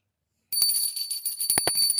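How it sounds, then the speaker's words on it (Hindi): A small handheld prayer bell rung during a home morning aarti for a Laddu Gopal idol, starting after a half-second of silence with a run of bright, sustained metallic rings close by, struck repeatedly and overlapping. "घंटी बजानी चाहिए, मैं घंटी बजा रही हूँ।"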